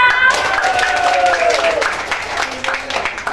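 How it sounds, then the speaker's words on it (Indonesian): A crowd at a community inauguration ceremony in Nabire claps in answer to a call for applause, a dense patter of hands lasting a few seconds with voices and some tonal sounds mixed over it. "Tepuk tangannya mana?"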